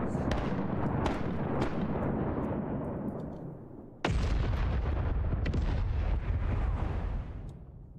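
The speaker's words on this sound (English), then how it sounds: "Lay waste. Fire the cannons." Ship cannons in a pirate video game fire a loud, continuous barrage of booming blasts, with one sharp fresh volley cutting in midway and the rumble rolling on to the end.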